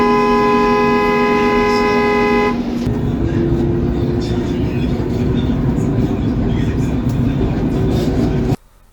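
An Ion LRT light rail train sounds a loud, steady horn-like tone for about two and a half seconds, followed by a continuous close rumble of the train that cuts off abruptly near the end.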